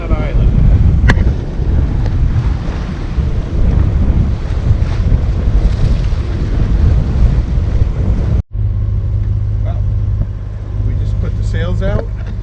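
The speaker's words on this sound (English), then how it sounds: "Sails out because, and motor sailing, because we have just enough angle for the sails to help us out." Sailboat motor sailing with sails out along the Florida coast toward West Palm Beach, a steady engine drone under heavy wind buffeting and water rush that continues without a break for the whole stretch.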